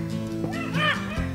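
Beagles bay and bark while running rabbits in the woods at night, short yelping calls rising and falling over a constant background drone.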